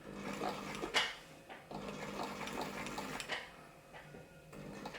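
An Elna Supermatic Star Series 62C sewing machine top stitching, its steady mechanical whir running close and continuous with a few brief knocks and slight dips in pace.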